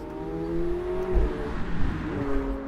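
A supercar engine revs up and down, its pitch rising and falling in bursts with a throaty growl, fairly close, no talking.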